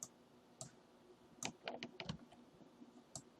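Keyboard keys and mouse buttons click during control-click work in Cinema 4D, a run of sharp, close clicks clustered in the middle with scattered single taps before and after, no voices.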